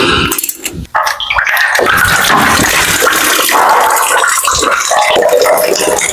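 Fluid pours steadily from the engine block drain plug of a 1964 Ford Galaxie 500 with a 428 FE engine, a loud continuous splashing gush that runs the whole time with no talk over it.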